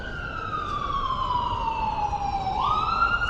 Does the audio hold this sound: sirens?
yes